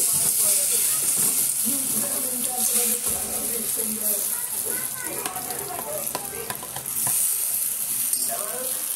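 Green chilli pickle is stirred and mixed in a large bowl, a continuous wet scraping and sloshing with a faint sizzling hiss behind it and occasional clinks of the spoon against the bowl.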